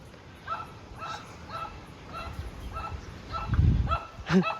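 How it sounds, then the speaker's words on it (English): Several puppies yip and bark in a rapid, scattered series at moderate distance at Mae Ya Waterfall, Chiang Mai, Thailand, ending with a couple of louder, closer barks. "Couple of puppies over there."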